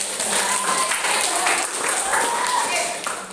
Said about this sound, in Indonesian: tepuk tangan untuk Edo